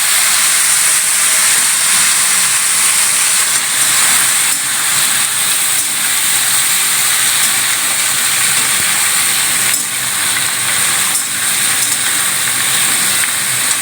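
Vegetables slide into hot oil with fried panch phoron and dried red chillies, setting off a loud, continuous sizzling hiss that holds steady from start to finish.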